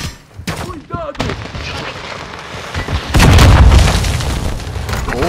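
Gunfire and a heavy boom in Warzone 2.0, scattered shots early on building to a loud, sustained burst of firing with explosive rumble near the end, voices talking over it.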